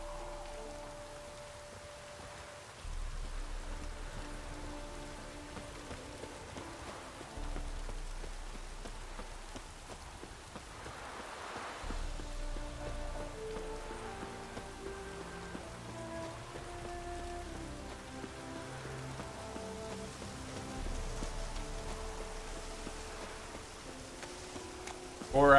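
Steady rain falls in The Witcher 3 video game as a soft, constant patter, with faint in-game music tones running underneath and no talking.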